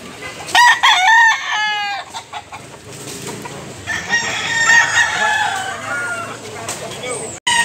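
A year-old rooster crows loudly nearby at the start, followed by clucking and mixed farmyard noise with some voices in the background, in Consolacion, Cebu.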